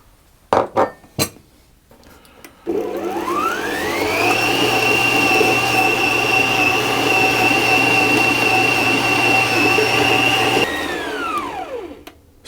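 An electric mixer starts up and whirs steadily at high speed, kneading dough with softened butter, then winds down, after a few knocks beforehand and with no speech.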